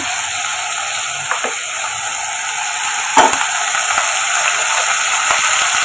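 Onion, spinach and ginger garlic paste sauté in a pan, a loud steady sizzle throughout with a couple of brief scraping stirs.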